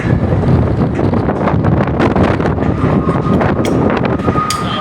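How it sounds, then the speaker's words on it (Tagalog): Loud, gusty wind high up on scaffolding buffets the microphone continuously, a heavy roaring rush with no pauses and no voices. "Malakas ang hangin guys"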